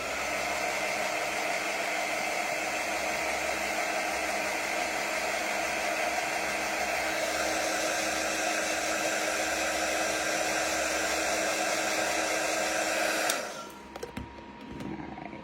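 Handheld craft dryer blowing on freshly painted craft acorns for a fall door decoration, a loud, continuous whooshing roar that runs steadily for about thirteen seconds and then cuts off abruptly, followed by a few faint clicks.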